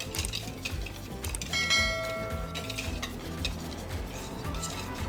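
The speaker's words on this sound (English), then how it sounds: "Give that a good whisk." Cassava, almond and tapioca flour with salt and baking powder are whisked in a bowl. Quick rhythmic ticking strokes carry a faint metallic ring as the whisk strikes the sides.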